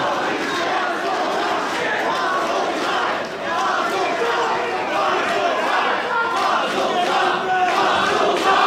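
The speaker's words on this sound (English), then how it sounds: "This crowd is absolutely ridiculous, Wadsworth." A wrestling event crowd roaring and shouting continuously, a dense wash of many voices cheering at full volume throughout.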